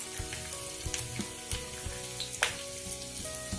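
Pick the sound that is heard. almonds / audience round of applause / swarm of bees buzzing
almonds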